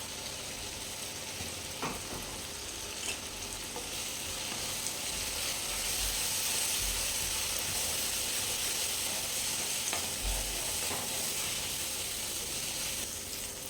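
Masala sizzles in hot oil in a pan for a Nellore-style fish curry, a steady frying hiss with occasional scrapes and knocks of a spoon stirring through the mixture.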